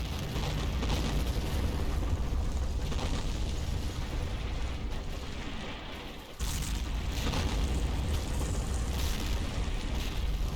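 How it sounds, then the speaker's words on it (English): Mortar barrage explosions in Combat Mission keep rumbling, with deep booms and crackling debris layered into a continuous roar. A brief dip comes midway, then the din resumes, with no voices present. "my spotters are already calling mortars onto specific identified targets. My initial barrage starts to fall on the Angelo ridgeline."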